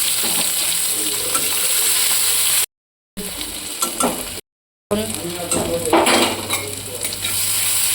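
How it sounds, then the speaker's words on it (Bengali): Chopped onion with cardamom stir-fried in oil in a kadai: loud, continuous sizzling with scraping stirs and clatter of a spatula, cut by two short silent gaps. "একটু নেড়ে নেবো"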